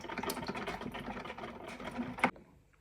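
A home coffee machine running after its start button is pressed gives a steady mechanical whirr and rattle close by, ending abruptly with a sharp click.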